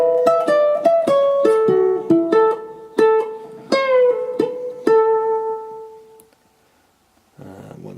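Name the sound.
ukulele playing a song's solo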